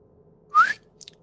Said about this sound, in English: can you not whistle? Because that's really hard on my ears.